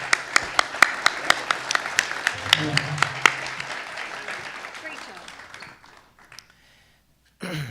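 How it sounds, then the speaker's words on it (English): Audience applause at a college pitch event, a burst of clapping with sharp individual claps that fades out over several seconds, with a brief spoken word over it and a voice returning at the end. "And a nice round of applause."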